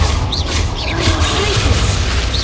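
The Confringo blasting spell explodes in the video game Hogwarts Legacy, a loud booming crash with whooshing magical effects and sustained low rumble over the full stretch.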